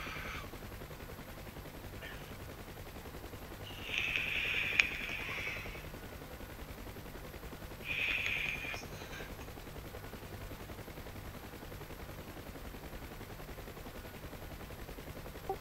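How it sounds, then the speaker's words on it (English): Two short bursts of machine-gun fire from a Huey helicopter door gunner in a combat flight simulator, a few seconds apart, faint and distant over a steady engine drone. "My Huey guy is firing at something."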